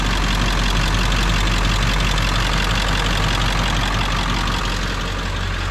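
A car engine fitted with an aftermarket SMB intake idles with a steady, close, full-bodied rumble and a touch of breathy intake noise, continuous with no voices.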